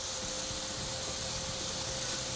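Bacon lardons sizzle in a frying pan, a steady close hiss of broad crackling spread across the whole clip with no pauses and no talk.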